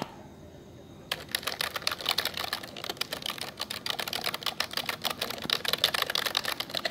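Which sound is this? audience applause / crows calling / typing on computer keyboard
typing on computer keyboard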